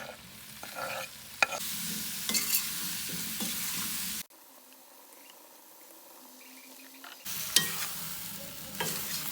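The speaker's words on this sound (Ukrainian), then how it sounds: "Засипаємо цибульку." Onions tipped into a hot cauldron sizzle and crackle loudly while being stirred, alongside baby potatoes frying; the sizzle drops to a faint hiss midway, then returns strongly with scattered pops.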